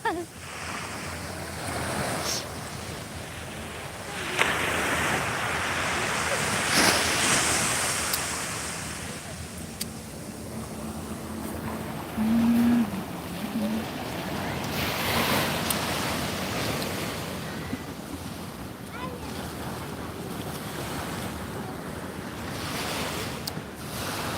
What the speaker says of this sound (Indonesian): Ombak.